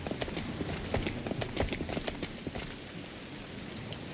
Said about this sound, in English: His despondent words echoed and melted away into the sound of the rain pouring down.